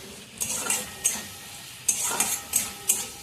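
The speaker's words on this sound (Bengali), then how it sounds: "এবার মশলাটা একটু নাড়াচাড়া করে" A spoon stirs onion and spice masala with salt in a sizzling pan for katla fish kaliya. About seven sharp scraping strokes come in an uneven rhythm over a soft, close frying hiss, with no talking.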